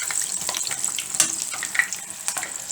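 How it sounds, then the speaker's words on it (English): Mars bars coated in batter deep frying in hot oil, a steady close crackling sizzle with scattered bright pops throughout, loud and continuous with no voices. "my Mars bars in the batter are sizzling away there nicely"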